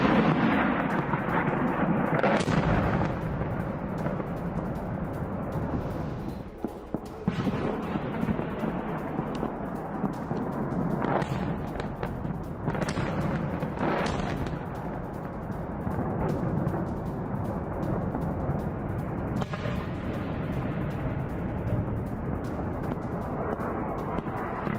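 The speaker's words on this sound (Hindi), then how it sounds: "कीव पर मिसाइल अटैक का नया वीडियो आया सामने" Deep booming blasts from a cruise missile attack on Kyiv, with rolling rumbles and several sharper thuds over a continuous roar, loud and distant-sounding throughout.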